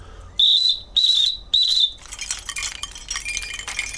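A shepherd's whistle gives the signal to bring the sheep home: three loud, sharp, steady high blasts in quick succession, close by, followed by a rustling, buzzing wash of background noise.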